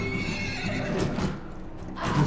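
A horse in the video game Mount & Blade II: Bannerlord whinnies loudly with a drawn-out neigh, then a second shorter whinny at the end, over steady background noise.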